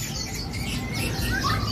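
Songbirds chirp and call steadily inside a bird-selling kiosk at a market, with a dense mix of bright tweets over a constant low background hum.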